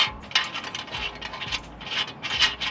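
A torque wrench tightens wheel studs on a Toyota Supra with quick metallic ratcheting clicks and clinks in short bursts, close and fairly loud, with no talking.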